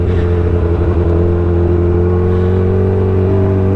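A Suzuki Hayabusa motorcycle engine drones loud and close, holding a steady, rich tone throughout the short stretch with no break.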